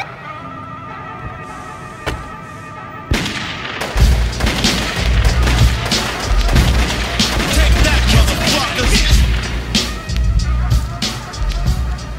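Sharp gunshot cracks and booms in a rap track, a couple of isolated shots and then loud rapid bursts over a heavy thumping bass beat, fairly close and punchy.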